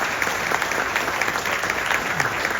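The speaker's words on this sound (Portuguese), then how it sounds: "Uma salva de palmas para o nosso professor Orieste Gomes." Audience clapping steadily at a book launch at the Instituto Histórico e Geográfico de Goiás, a dense, even round of applause filling the room for a professor, with no voices over it.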